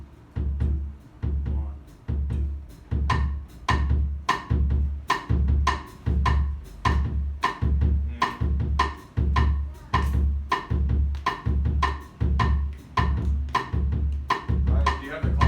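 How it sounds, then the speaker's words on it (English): Bossa nova cross-stick pattern played on a drum kit, with a steady, repeating low bass-drum pulse under crisp rim clicks in a syncopated, clave-like rhythm, close and even, while a voice counts in briefly. "what's sometimes referred to as a bossa nova cross stick pattern"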